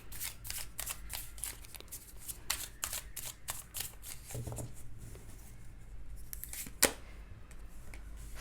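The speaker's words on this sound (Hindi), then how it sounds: "मैं जब तक कार्ड शफल कर रही हूँ" Tarot cards being shuffled by hand, a quick run of crisp riffling flicks and slides repeating steadily at close range, with no talking.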